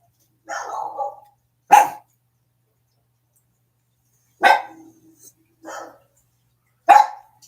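Dog barking from outside, a handful of loud separate barks with long pauses between them, some with a short growly tail, clear against a quiet background.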